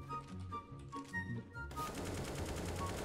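Rapid automatic gunfire from the video game CS:GO, with dense bursts of shots that swell into a loud, continuous barrage with no talking.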